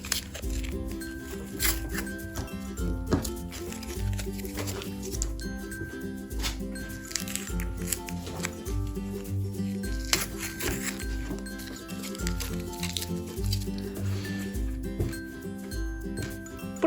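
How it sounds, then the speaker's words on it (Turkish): Strips of tape are peeled away from a macrame rainbow wall hanging, giving repeated close scratchy tearing and rubbing noises in short bursts over quiet background music. "Şimdi bu bantlarımızı sökebiliriz."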